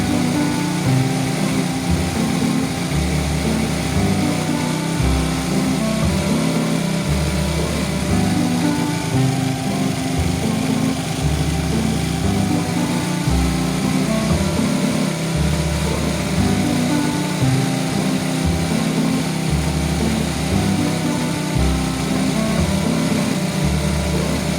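A small engine runs steadily at high revs while its carburetor is adjusted for the highest stable RPM, a loud, continuous buzzing drone with slight fluctuations and no speech.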